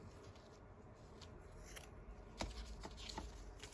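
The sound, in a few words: scissors cutting paper for a folio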